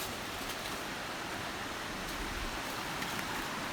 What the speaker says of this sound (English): I believe we get the crossing for Steele's Creek.